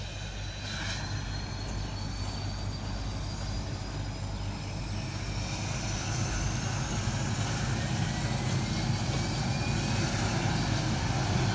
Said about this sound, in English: Parachute plane started his engine.